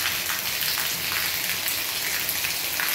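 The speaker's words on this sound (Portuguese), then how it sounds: "e a chuva aumentou." Heavy rain pouring onto surfaces in northeastern Brazil, a dense continuous hiss of drops, loud and close with no voices.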